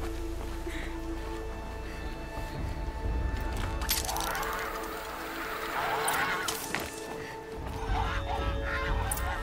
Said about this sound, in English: Shoot the ducks!